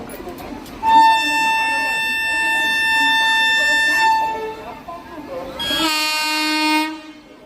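A goods train locomotive passing close by, sounding its horn in a long loud blast that is followed by a second harsher, higher horn, with rumbling rail noise underneath.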